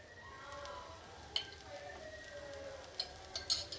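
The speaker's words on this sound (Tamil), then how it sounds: "இப்போ இதுக்கு நான் சுற்றி எண்ணெயை விட்டுறேன்." Oil poured around a millet vegetable dosa on a hot pan sizzles faintly, with soft crackles and a few sharper pops toward the end over a quiet background with a faint voice.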